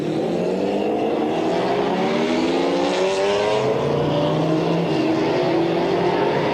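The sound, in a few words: GT race cars on the pace lap at Jerez, 1995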